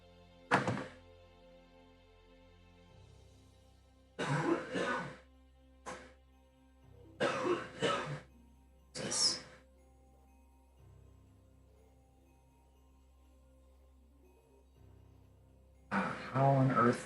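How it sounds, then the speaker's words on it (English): Loud coughing carries in from another room as a handful of harsh, separate bursts with quiet gaps between them, clearly picked up despite the distance. "How on earth anyone can cough so loud that it picks up on my microphone from another room?"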